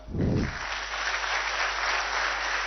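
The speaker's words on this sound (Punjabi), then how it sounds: "ਜ਼ੋਰਦਾਰ ਤਾੜੀਆਂ" A crowd at a PSPCL appointment letter ceremony in Chandigarh breaks into loud, sustained applause that fills the whole stretch, following a brief voice at the start.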